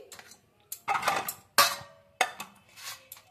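Bottle gourd being grated on a kitchen grater in a home kitchen, a series of separate scraping strokes with sharp starts, some longer rasps, fairly close and fairly quiet.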